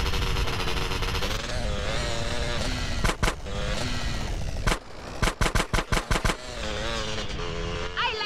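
Gunfire in GTA San Andreas sounds over a constant engine roar: scattered sharp shots, then a quick run of about seven loud evenly spaced bangs near the end.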